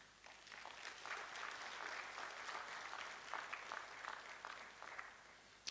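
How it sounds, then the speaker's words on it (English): Scattered, fairly quiet applause from a small audience at a scientific meeting of a Ghanaian medical college, with individual claps audible, holding steady before tapering off near the end. "so they are not clapping loud enough"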